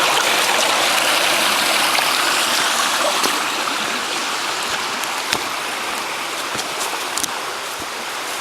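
Steady rushing of a low river flowing, a continuous close wash with occasional small splashes and knocks.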